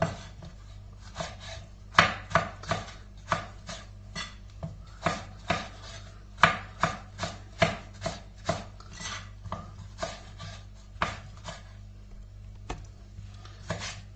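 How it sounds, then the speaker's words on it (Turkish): A knife chops peppers into cubes steadily on a cutting board, sharp regular knocks repeating quickly and close by, with no talking. "biberlerimizi de doğruyoruz küp küp"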